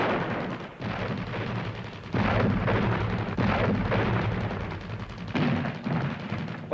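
Repeated bomb blasts and heavy battle booms in a 1974 Yugoslav war film, a loud continuous barrage of deep thuds and rumbling bursts with several sharp onsets, no talk.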